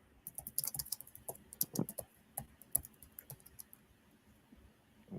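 Fingers type on a computer keyboard in quick, uneven bursts of close clicks and taps, quiet overall, with the rattling keystrokes thinning out and pausing toward the end.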